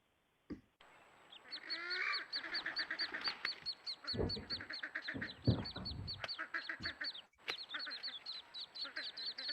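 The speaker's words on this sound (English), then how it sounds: "These are wood ducks." Wood ducks call near a nesting area, giving a busy, continuous series of squeaky whistles and quacks, fairly close and loud, with brief lower-pitched bursts mixed in.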